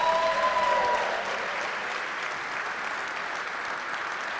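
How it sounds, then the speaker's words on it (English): Outdoor audience at the America250PA kick-off in Adams County applauds the event sponsors, a steady wash of many hands clapping that holds for the whole stretch, with a brief tonal sound near the start. "So how about a round of applause for all of our sponsors?"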